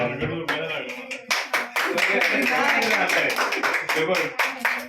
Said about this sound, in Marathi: ते टाळ्या वाजवतो